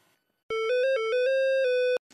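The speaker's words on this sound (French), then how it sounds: "Ce téléphone n'arrête pas de sonner depuis ce matin." A telephone rings at a hospital emergency reception desk, a clear electronic ringtone of several quick warbling pulses run together for about a second and a half, loud and close, then stopping abruptly.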